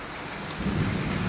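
A thunderstorm with heavy rain over flooded streets in Surat: a steady rush of rainfall, joined about halfway through by a low rolling rumble of thunder.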